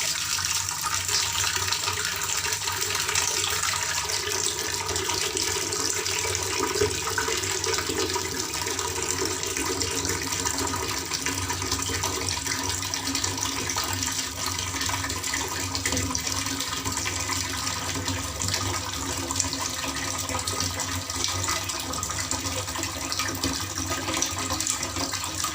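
Water runs continuously from a tap into a 6-litre pot, a steady hissing, splashing stream, close and unbroken throughout.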